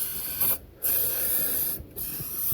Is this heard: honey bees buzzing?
no